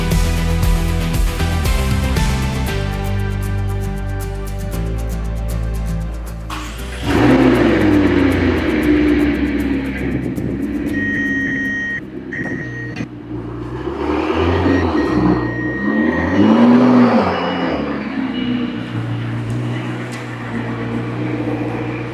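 A crash-repaired McLaren sports car engine starts up, settles into a steady idle, then revs in several rising and falling sweeps, loud and close, with no one talking.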